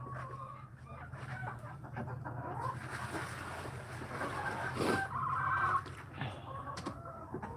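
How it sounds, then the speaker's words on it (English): A farm chicken gives a strange high squeaking call amid clucking in a coop, rising to a louder burst near the end over steady low background noise, with no talk. "You're quite the squeaker. Yeah, that's a strange noise for a chicken to make."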